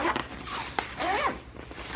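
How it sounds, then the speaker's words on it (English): Zipper on a knitting needle storage case being pulled closed, a few quick rasping zips in short bursts, close and fairly quiet. "And so that whole thing zips up"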